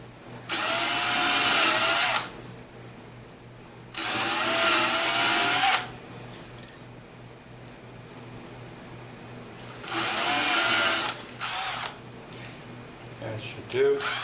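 Power drill punching holes through a small cut piece, several loud high-pitched whining bursts of a couple of seconds each separated by pauses, close by.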